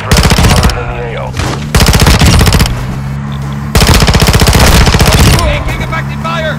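Call of Duty machine gun fire in loud, rapid bursts of about a second each, separated by short pauses filled with game ambience and radio chatter.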